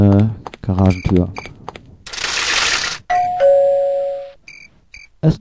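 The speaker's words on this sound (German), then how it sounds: "Es klingelt." Doorbell chime in the video game Maniac Mansion Deluxe, a bright two-tone ring sounding once in the middle, set among game beeps and a burst of noise.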